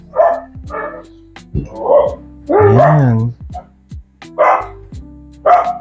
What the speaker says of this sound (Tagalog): Yung mga aso, pati mga aso nagugutom na.